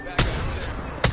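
Two sharp gunshot bursts ring out in a video game, loud and close, about a second apart, with game ambience between them.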